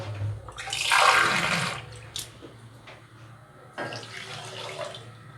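Water pours into sugar in a pan to make syrup for fried milk-powder sweets, a loud splashing pour for about two seconds, then a softer, steadier trickle with a clink, under no talk.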